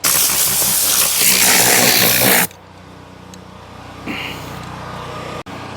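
Compressed air blowing out a car interior while detailing: a loud, harsh hiss for about two seconds cuts off abruptly, followed by quieter background with brief faint bursts.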